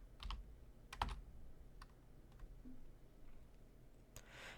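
Typing on a computer keyboard to enter a length value in a geometry program: a few quick clustered key clicks near the start, then sparse faint taps in a quiet room.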